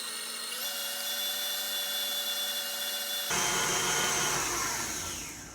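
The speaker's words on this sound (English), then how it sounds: "Let's go ahead and blend that in." Electric mixer beating almond extract into no-bake vanilla cheesecake filling, a steady high motor whine that jumps to a louder, harsher pitch partway through, then tapers slightly, with no talking.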